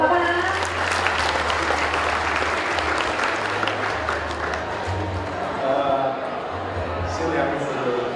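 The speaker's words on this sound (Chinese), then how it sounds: "也要再次持续来借用现场嘉宾朋友的掌声" Wedding banquet guests in a hotel ballroom clap and applaud steadily throughout, a dense wash of many hands with a low hum and some background voices beneath.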